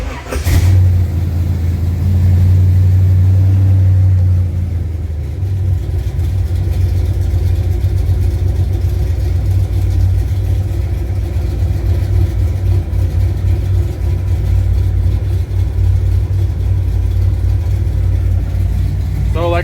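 A 1966 Chevrolet Nova engine turns over with a sharp crank, catches and settles into a loud, steady idle close by, a heavy low rumble that holds for the rest of the stretch.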